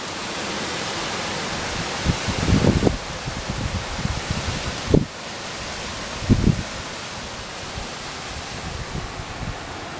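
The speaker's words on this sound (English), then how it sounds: "the top of the trees is catching the wind and sort of filtering it" Strong wind rushes through high treetops as a storm approaches, a broad, steady roar with a few louder gusting surges and rustling bursts standing out from the constant wash.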